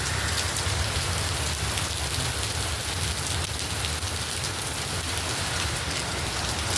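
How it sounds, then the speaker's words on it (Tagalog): Heavy rain pours down outdoors in a dense, unbroken hiss of drops striking surfaces, loud and steady throughout with a low rumbling undertone. "Sobrang lakas ng ulan mga kapatid."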